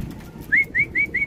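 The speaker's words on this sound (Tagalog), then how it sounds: "Ito guys, first bird natin, si SW." A racing pigeon nearby gives four short, evenly spaced calls in quick succession over a faint background murmur.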